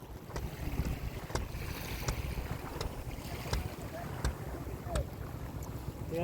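An engine-fitted wooden fishing boat moves on the Rupnarayan river, a continuous low motor chug under wind and water noise with faint regular clicks, heard from nearby.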